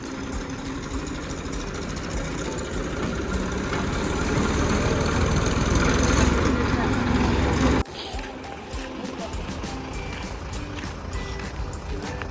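A tractor engine runs steadily in the Jamjodhpur market yard where soybeans are unloaded, a loud continuous rumble that swells, then drops sharply partway through and carries on at a lower level with background yard noise.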